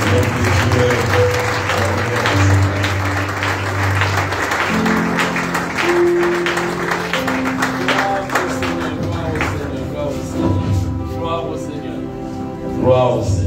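Sustained applause from a crowd at a church seminar fills the space, with music and voices underneath, tapering toward the end.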